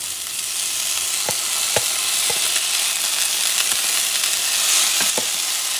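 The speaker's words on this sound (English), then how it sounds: "And I'm going to saute this baby." Rice sautéing in a pan with green beans and peas gives a steady close sizzle, broken by a few sharp clinks and scrapes as it is stirred.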